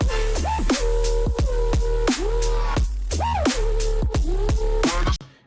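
A thick, distorted synth bass made from two sine waves run through a saturator in Serum and Ableton plays a bouncy dubstep pattern of repeated notes with sliding pitch bends, loud and upfront, then cuts off abruptly at the end.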